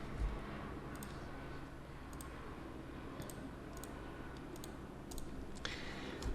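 Sparse, soft clicks of keys on a computer keyboard during 3D modeling work in Houdini, about a dozen faint taps in small clusters over a quiet room hum.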